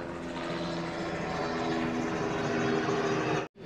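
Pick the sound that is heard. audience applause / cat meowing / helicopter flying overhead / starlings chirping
helicopter flying overhead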